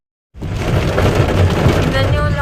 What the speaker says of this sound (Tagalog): Tignan yung lakas ng ulan.